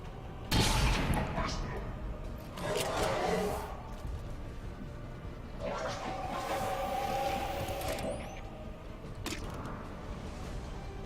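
Gunfire in XCOM 2: War of the Chosen, a few separate sharp shots spaced a couple of seconds apart, each with a brief ringing tail, set over a low game ambience.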